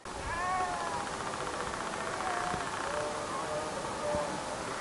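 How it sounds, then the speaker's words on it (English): Sheep bleat far off on a mountain trail near a lake, faint wavering cries rising over steady wind or ambient noise across the short stretch. "It's sheep off in the distance."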